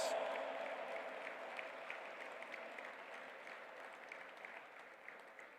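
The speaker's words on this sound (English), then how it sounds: "A big round of applause, my friends." Audience applause during a standing ovation at an interfaith summit: a dense, steady crowd of clapping, fairly distant and faint, fading slowly, with no talk.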